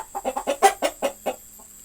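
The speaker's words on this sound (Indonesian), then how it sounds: "jika ayam kita sudah bersuara seperti ini, itu adalah pertanda ayam mau bertelur teman-teman." Black hen about to lay an egg, giving a quick run of close clucks that rises to a louder squawk and then trails off into quieter calls, with no talking.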